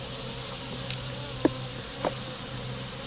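Bees hum steadily around an opened beehive at dusk, a dense, even buzz filling the whole stretch at moderate level, with a couple of brief louder passes close by.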